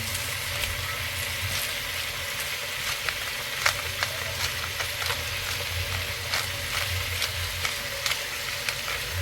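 Chicken sautéing in a pan with pepper being added, giving a steady close sizzle and crackle with frequent sharp pops and spatters, no voices over it.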